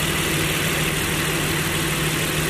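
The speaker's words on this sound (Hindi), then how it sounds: "ये V6 इंजन है" A Nissan 350Z V6 with a K&N air intake idles steadily up close, a constant low rumble with a smooth, even drone and no talking over it.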